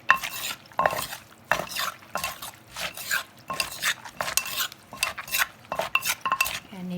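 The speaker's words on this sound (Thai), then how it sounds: "เรียบร้อยเราก็ใส่กุ้งลงไป ค่อยๆเนี้ยว" Papaya salad with shrimp being mixed, with close rhythmic clattering and scraping strokes of utensils against a bowl, repeated in quick bursts without talk.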